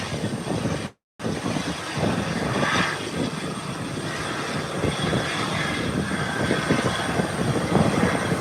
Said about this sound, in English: that's an Airbus 319